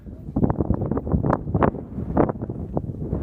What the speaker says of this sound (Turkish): esinti fevkalade